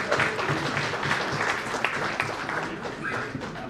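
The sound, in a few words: audience applause at award ceremony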